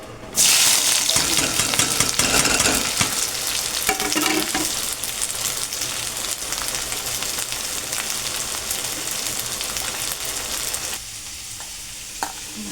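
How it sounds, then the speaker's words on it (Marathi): Onions fry in hot oil for chicken dum biryani, a loud, dense sizzle that starts abruptly and crackles steadily, easing off near the end with a faint clink. "कांदा मी भाजून घेणार आहे सगळा मसाल्यात घालायला बिर्याणी"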